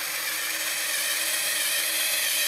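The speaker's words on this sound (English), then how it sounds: "run the belt across the blade as evenly as possible" A knife blade run across a 2x72 belt grinder gives a loud, continuous abrasive hiss that stays steady throughout, with no voices.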